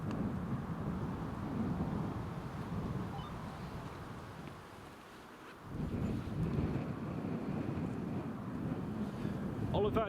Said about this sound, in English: it was very blustery indeed